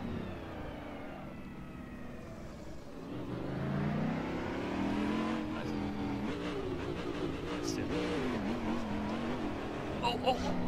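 Corvette DP race car driven in the Assetto Corsa racing simulator, its engine revving and pulling continuously through acceleration and shifts, loud and steady beneath someone talking over it.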